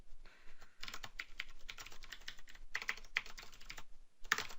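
Rapid clicking keystrokes on a computer keyboard come in quick bursts with short pauses between, close and fairly quiet, with no one talking.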